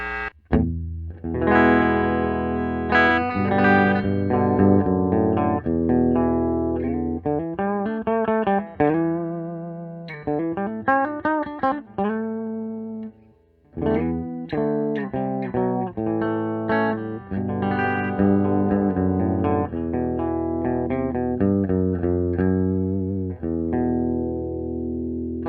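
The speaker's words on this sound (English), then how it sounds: "the sweet, sweet clean of this Fender practice amp running through the Marshall speaker" Electric guitar played through a Fender practice amp into a Marshall speaker with a mostly clean tone, strumming chords and picking melodic runs steadily and fairly loudly, with no talking.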